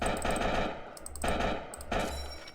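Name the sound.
shotgun firing in Spooky's Jumpscare Mansion video game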